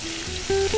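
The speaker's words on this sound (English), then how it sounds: "So now we're going to add our garlic." Garlic goes into a pan with chicken for chicken marsala, producing a short burst of sizzling that grows louder, with faint tonal hum alongside.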